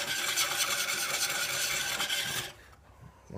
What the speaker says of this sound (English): So we'll continue with the coarse stone.